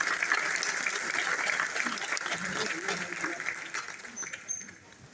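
An audience applauds to welcome MP Manoj Tiwari at a short-film inauguration, with dense, steady clapping that slowly thins and fades toward the end, mixed with a murmur of voices.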